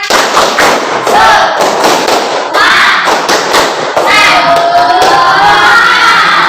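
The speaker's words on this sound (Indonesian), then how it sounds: "Kita tepuk semangat dulu ya, biar semangat." A classroom of students performs a group rhythmic clapping chant (tepuk semangat) during a teacher-training session, with loud, fast bursts of claps alongside shouting voices that run through the whole stretch.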